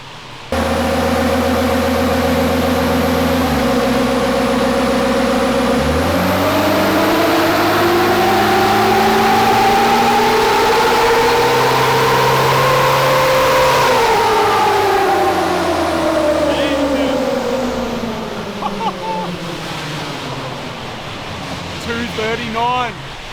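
A swapped Nissan Patrol engine revs hard on a dyno during a power run, its loud tone climbing steadily in pitch through the gears for about fifteen seconds before easing off and dropping back.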